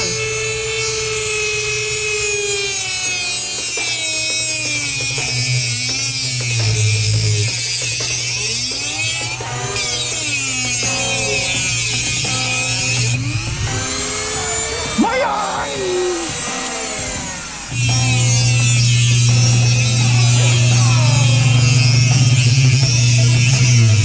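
Dremel rotary tool cutting out rotted metal on an E28, a steady high-pitched whine with grinding and rubbing that shifts in pitch as it bites, lasting throughout and surging louder near the end.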